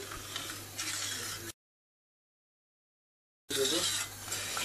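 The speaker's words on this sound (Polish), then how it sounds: "Dokładnie mieszam." A spoon scrapes and clinks in a pot as rice is stirred with boiling water and milk. Two short bursts of stirring are separated by a stretch of total silence.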